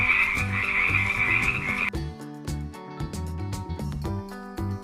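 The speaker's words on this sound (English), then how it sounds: "Hi, I am frog. I make the sound ribbit ribbit." A frog croaks in repeated, close, rhythmic calls, set against a bouncy background music track, with no voices present.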